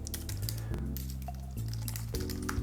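Rapid clicking keystrokes on a computer keyboard, quiet and close, while a Django development project is set up on the computer, played over steady background music with brief pauses between bursts of typing.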